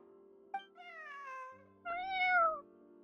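A cat meows twice in a video game, two clear, drawn-out calls that rise and fall, alone against quiet game background.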